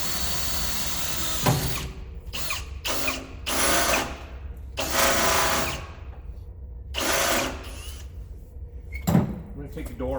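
A power drill bores holes through the hinges of a storage door on a 2001 Freightliner bus, running in repeated short bursts of a few seconds each, with people talking between and over the drilling.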